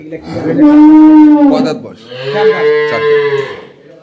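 An improved-breed dairy cow in a Narayanganj farm shed gives two long, loud, drawn-out moos, very close, with a short pause between them.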